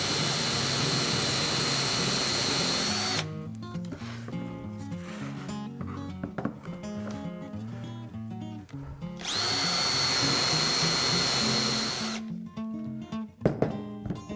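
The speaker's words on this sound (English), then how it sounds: "drill the second hole" A power drill whines loudly at high speed for a few seconds drilling a hole with a drill guide, stops, then whirs again for another burst, with quieter clatter and music between.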